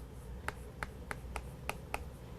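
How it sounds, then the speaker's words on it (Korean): Six evenly spaced, sharp taps of a teacher writing on a classroom board, soft and close over a quiet low hum. "선생님이 여기다 써볼게요."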